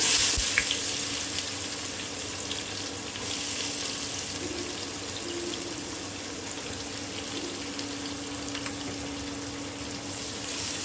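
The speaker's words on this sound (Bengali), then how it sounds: "এখন আমি এই প্যানের ভিতরে দিয়ে দিব কুচি করা কিছু পেঁয়াজ" Chopped onions frying in a pan, a steady hissing sizzle that rises after they go in, with a faint tonal hum beneath, close and moderately quiet, no talking.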